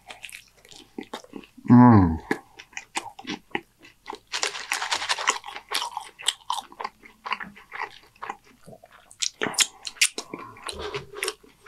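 Crunchy bites of homemade Dorito bag nachos, a sharp loud crunch early on followed by steady close chewing and smaller crunches, with a brief murmur of a voice.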